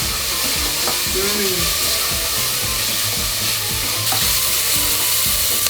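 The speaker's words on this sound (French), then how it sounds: "On va faire revenir la gousse d'ail et le restant d'oignon" A garlic clove and leftover onion frying in olive oil, a loud, constant close sizzle with bubbling crackle and a few scraping stirs, no talking.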